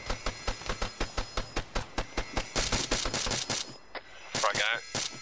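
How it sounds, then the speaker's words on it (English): Rapid, evenly spaced gunshots from a weapon in the Arma 3 video game, a loud steady run of sharp cracks that thickens into heavier overlapping fire, with brief radio-style voices near the end. "Copy, shots heard."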